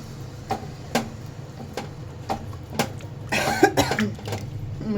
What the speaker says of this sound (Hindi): मुझे खांसी आ गई क्योंकि मसाला भूना ना।